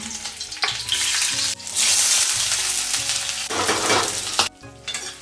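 Garlic and onion hitting hot oil in a home kitchen pan, a loud close sizzle that surges and drops as the pieces are stirred, with brief pauses and scraping, no voices.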